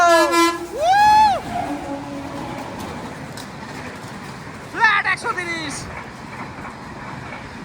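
Horn of the Howrah–SMVT Bangalore Duronto Express train no. 12245, overtaking the Dhauli Express at a platform: two loud sustained horn blasts near the start, then another shorter pair about five seconds in, with people talking over the blasts.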